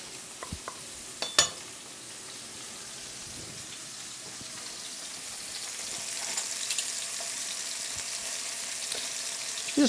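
Scallops sizzle steadily in a hot sauté pan as their second side cooks, with a dense, even hiss that swells slightly and a few sharp clinks near the start.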